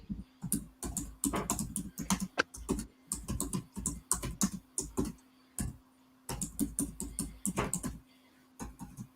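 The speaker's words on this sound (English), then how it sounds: "hammering that keyboard" Rapid bursts of typing on a computer keyboard, close and crisp, with clustered clicks broken by short pauses and no talking.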